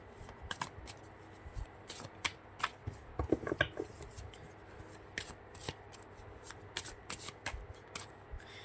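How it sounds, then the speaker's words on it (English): Cards from an Alice in Wonderland tarot deck are shuffled by hand in a quiet room, giving a steady run of crisp riffling and flicking bursts that come close together throughout. "let's get into the shuffling"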